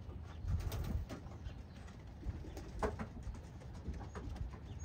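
Racing pigeons in a loft coo in soft, low, repeated murmurs, with a few wing flutters and shuffles nearby and no talk.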